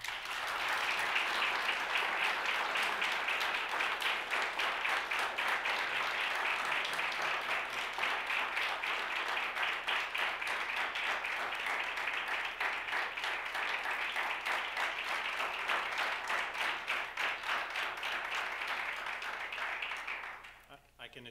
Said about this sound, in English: I can assure you they don't clap this much for me.